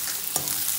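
Garlic, green chili and ginger sauté in a hot pan for dhaba-style dal palak, a steady close sizzle with a brief stirring scrape.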